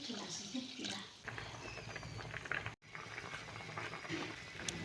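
Water poured into a pan of frying vegetables for a fish curry bubbles and simmers quietly with soft liquid popping, while a voice speaks over it and a brief dropout interrupts midway.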